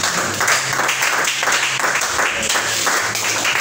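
A church congregation applauds during a worship service, steady dense clapping filling the space with a low sustained tone underneath, loud and continuous throughout.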